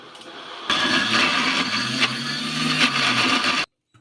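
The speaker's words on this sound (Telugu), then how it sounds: "కొన్ని వాటర్ అయితే వేసుకొని మిక్సీ అయితే పట్టేసుకుందాం మెత్తగా" A kitchen mixer grinder whirs loudly and steadily for about three seconds, blending puffed rice with water into a smooth idli batter, starting and stopping abruptly, close up with no voices.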